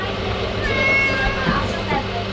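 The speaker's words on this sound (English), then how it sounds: "Did you guys forget to feed these meowing cats?" Cats meow on a homestead, their overlapping cries close and fairly loud for a couple of seconds.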